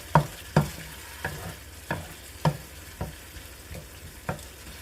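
Pre-cooked beef is stirred through Madras curry sauce in a pan: about eight distinct scraping strokes, evenly spaced and close, over a soft sizzling background with no talking.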